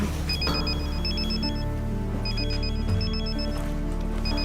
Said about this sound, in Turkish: Eylül, telefonum çalıyor.